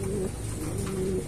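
Breeding pigeons coo softly and close by, two low drawn-out coos over a steady background hum, with no voices.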